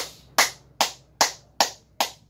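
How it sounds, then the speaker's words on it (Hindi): A group claps in unison to close a yoga session: five sharp, evenly spaced claps about every 0.4 seconds, crisp and fairly close, with no talking. "ताली बजाकर समाप्त करते हैं।"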